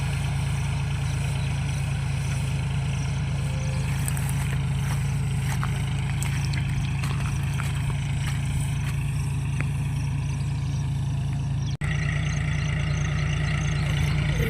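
A small narrow-wheeled tractor engine runs steadily while spraying a cotton crop, a loud continuous low drone with a constant rhythmic throb and a brief dip near the end.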